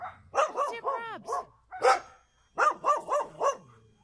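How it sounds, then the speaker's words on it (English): The neighbor's dogs bark repeatedly next door in quick bursts, loud and fairly close, with yips mixed between the barks. "The dogs next door are barking at me."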